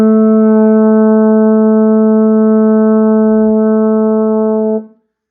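A baritone horn holds the upper A natural, played with the second valve, as one steady, bright brass tone. It sustains evenly and loudly for nearly five seconds, then stops abruptly, with no voice over it.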